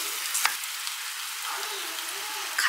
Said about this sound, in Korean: 쌀을 조금 볶아줄 건데